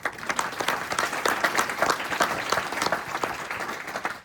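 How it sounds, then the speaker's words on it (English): Audience applause after a series of talks at a conference on stigma: steady, dense clapping from a crowd indoors, holding at an even level for the whole stretch with no one speaking over it. "let's give them all a round of applause"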